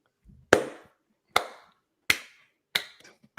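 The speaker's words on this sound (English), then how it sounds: "I'm clapping" Four sharp, distinct claps ring out at uneven intervals, each a crisp close slap followed by a brief decay, with quiet gaps between them.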